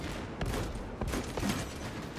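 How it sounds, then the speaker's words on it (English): A frag grenade blast in the Warhammer game Space Marine 2, a few sharp bursts landing in a dense, noisy stretch of gunfire and battle din, loud and close throughout. "Frag grenade deployed."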